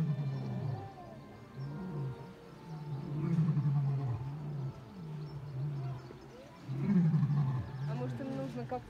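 Lions calling to each other in a zoo enclosure at morning feeding, a series of deep grunting roars rising and falling in rhythmic bouts, moderately distant with ambient background.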